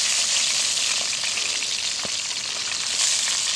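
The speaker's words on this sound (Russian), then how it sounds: "А вот Серега уже жарит рыбу" Fish sizzles steadily in a pan over a riverside campfire in autumn, a continuous loud hiss with a few faint clicks and pops and no voices.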